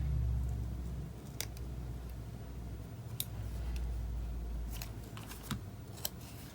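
Scissors cut paper for a bullet journal weekly spread, a few sharp, close snips spread across the clip over a quiet, low background hum.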